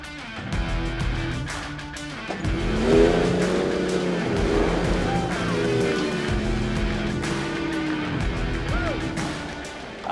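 Off-road race trucks on a Baja rally rev and pull out one after another, with engine notes rising and falling in several overlapping sweeps, close and loud.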